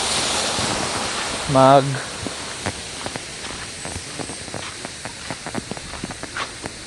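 Creek water flowing in the outdoors, a soft continuous rushing hiss that is strongest at first and then settles lower, with scattered footstep-like clicks and a brief voiced sound near the start.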